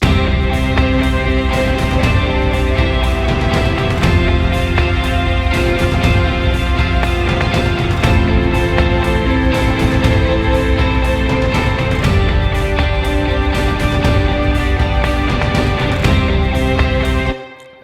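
A composed track plays loud and continuous, bass and drums together with a steady beat, and cuts off at the end.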